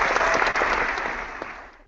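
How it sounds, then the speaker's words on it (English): Crowd applause, dense clapping that fades out over two seconds. "A round of applause for that"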